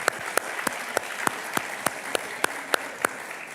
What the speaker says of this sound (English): put your hands together for Isaac Cooper as he comes.